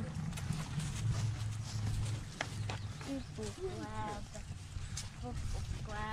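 Horse hooves clop along at a walking pace in Nampa, Idaho while people talk nearby, the steps soft and somewhat distant.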